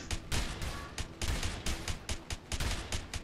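Rapid bursts of gunfire in the video game A Way Out, sharp repeated shots in quick clusters, fairly close and loud across the whole stretch.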